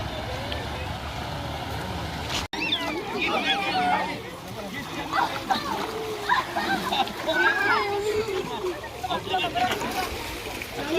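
Feet splash and slosh in a small pool of icy spring water at Sülüklü beach near Demre, Turkey, in irregular close splashes under voices, with one abrupt break early on.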